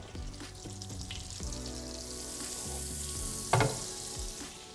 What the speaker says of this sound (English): I'm gonna melt about 3 tablespoons of butter.